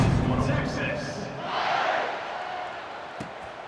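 A Texas home stadium crowd in the College Football 26 video game roars before kickoff against Michigan, a dense, sustained cheer that swells briefly, then settles into a steadier hum.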